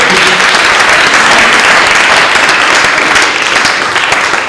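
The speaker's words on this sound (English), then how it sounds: "I think we should give a round of applause for the speakers who stayed to the end" Loud, dense audience applause for the speakers at the close of a transport innovations event, a steady wash of many hands clapping with no talk.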